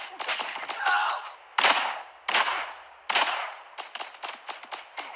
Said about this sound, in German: Und hier habe ich gerade wieder Schüsse gehört.